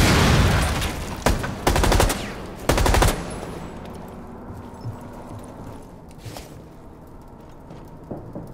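Bursts of rapid gunfire from the Rainbow Six Siege video game, several loud close volleys in the first three seconds, then quieter scattered game sounds and a faint distant shot.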